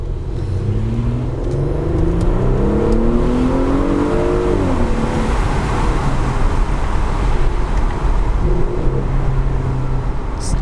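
An Audi SQ5 with a 3.0L V6 TFSI engine downshifts, the revs rising in a loud, close sweep before settling into a steady engine drone, with no talk over it.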